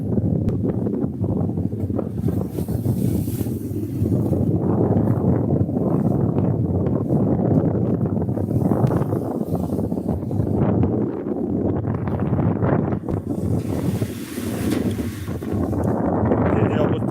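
A boat crosses the open Bay of Bengal in strong wind: heavy gusts buffet the microphone in a continuous low roar that surges and eases, with a faint rumbling underneath throughout.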